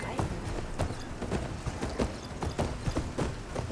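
Hoofbeats of a ridden mount in Horizon Forbidden West, a steady clip-clop gait of repeated, evenly spaced thuds over low ambient game sound, with no talk.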